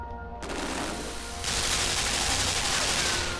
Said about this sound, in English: Machine gun turrets.